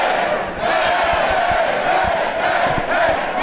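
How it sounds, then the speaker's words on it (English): Loud, sustained roar from a wrestling crowd during a tag team match, a steady wall of shouting and whooping with scattered claps, with no talk over it. "The crowd definitely behind the newest rockers here tonight."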